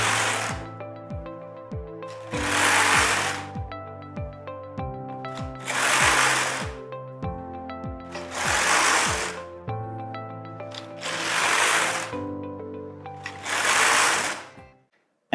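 A Singer Solo hand knitting machine knitting mock rib rows, the carriage sliding back and forth in a steady rhythm: six rasping passes, each ending in a clack, with rattling needle clicks between them, close and clear.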